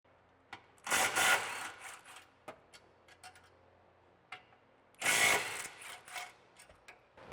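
A 13mm socket wrench on an extension loosening exhaust isolator bracket bolts on a 2015-2024 Mustang GT frame near the sway bar, two bursts of rapid ratcheting clicks separated by sparse metallic ticks and taps in a quiet garage.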